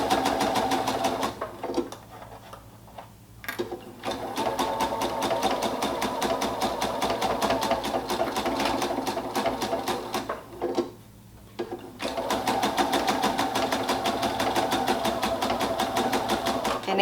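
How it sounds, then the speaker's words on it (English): A sewing machine stitching slowly along the curved seam of a baby hat runs steadily with a fast mechanical whir, stopping briefly twice as the fabric is lifted and turned, close and moderately loud. "you might just have to sew slowly and just kind of lift and turn just a little bit as you sew along the curve"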